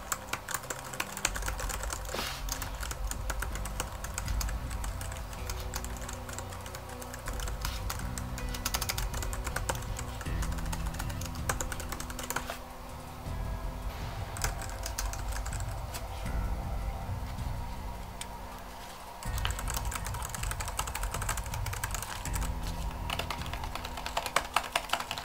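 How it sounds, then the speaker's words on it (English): Steady typing on a Mac keyboard with no cover fitted: a continuous, close patter of crisp key clicks for the whole stretch, with brief dips where the rhythm slows, and no talk. "now I'm going to let you guys hear without the keyboard cover on"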